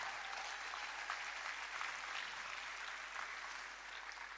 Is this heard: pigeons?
no